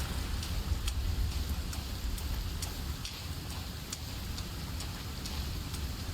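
Rain falling in the video game Sons of the Forest: a steady, fairly quiet hiss of rainfall with scattered sharper drop ticks, continuous throughout with no talking.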